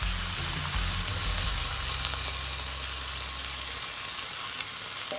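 Coconut milk hits a hot pan for a vegan Thai green curry, giving a steady, loud, broadband sizzle that fries on evenly throughout with low bubbling underneath and no talking.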